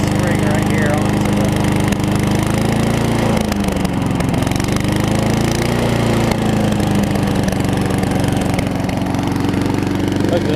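Tecumseh engine on an older Murray lawn mower with a cleaned carburetor running steadily at a loud, close, even idle, with a slight dip in speed, while someone talks over it.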